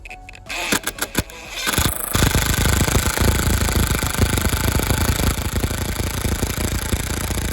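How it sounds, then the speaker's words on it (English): An impact driver sinks 3.5-inch deck screws into a wooden fence panel. A few sharp knocks come first, then several seconds of loud, continuous rapid hammering close by, with no talking. "then I go ahead and screw them with the impact driver"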